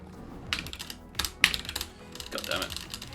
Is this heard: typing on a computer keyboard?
yes